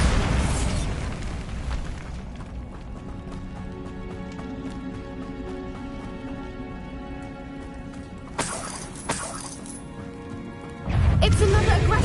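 Bombarda blasting spell exploding in Hogwarts Legacy, a heavy boom at the start that rings out into a long tonal decay, followed later by sharper crashing bursts and another loud rumbling blast near the end.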